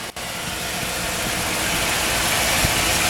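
A car engine idling steadily, a smooth low hum with an even mechanical drone, close and constant for a few seconds with no talking.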